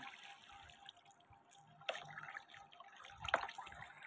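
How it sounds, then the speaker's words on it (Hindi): Water is placed inside the Minecraft video game as a soft trickling, dripping splash with a couple of brighter bursts, faint and with no talk. "और अब हमारे को इधर पानी डाल रहा हूँ"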